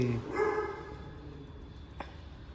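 A dog gives a short bark near the start against a quiet outdoor background, followed by a faint click and low ambient noise.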